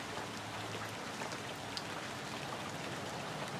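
Soft, steady patter of rain falling outdoors on a lawn where snow has melted, a faint continuous hiss of drops with no voices.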